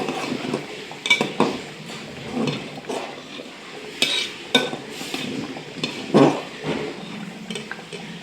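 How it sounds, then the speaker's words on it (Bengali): Potatoes and beans fry in a pan while khichuri cooks nearby, with utensils scraping and clinking against the pot in irregular bursts over a soft, steady sizzle, close and moderately loud, with no talking. "আর এই যে এখানে ভাজা হচ্ছে আলু আর বিনস।"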